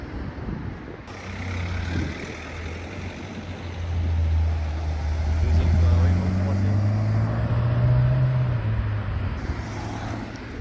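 A Ferrari California's engine resonates at a seaside car-spotting scene in Deauville, a deep, steady rumble that swells and climbs in pitch midway as revs rise, with faint background voices.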